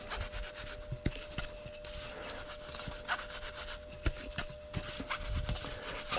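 Hand sanding of a Jaguar V12 throttle body, a quiet, close, continuous scratchy rubbing in short back-and-forth strokes with a few light taps.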